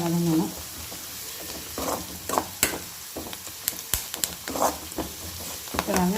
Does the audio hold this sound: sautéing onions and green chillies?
yes